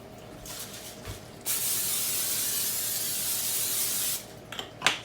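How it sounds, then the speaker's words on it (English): Cooking spray misted onto chicken seasoned for meal prep: one continuous, fairly close hiss lasting about three seconds, with quiet handling sounds before it and a few soft clicks and knocks after. "Spray we're using today is this."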